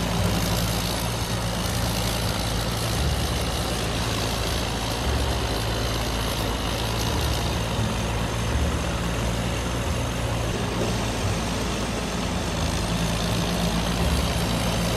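A combine harvester engine in Farming Simulator 19, a modded rice harvester, drones steadily with a deep, loud rumble that holds at a constant level without clear revs or pauses.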